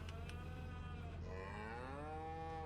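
Cattle on a Farming Simulator 25 farm give a long, clear moo with a drawn-out falling tone, over a low steady background hum.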